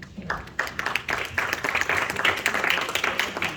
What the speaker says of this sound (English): Let's put our hands together for Anna.